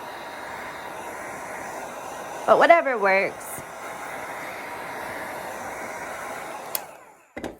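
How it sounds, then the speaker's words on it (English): A heat gun blows hot air with a steady whirring hiss throughout, briefly under a short spoken phrase, cutting off near the end. "So it's not necessary to have a heat gun, but I do like it."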